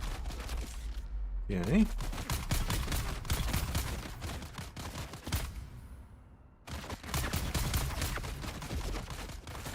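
Elite guards in Dune: Awakening fire missile wands in rapid repeated bursts of sharp cracks, with a brief pause partway through, while someone speaks once.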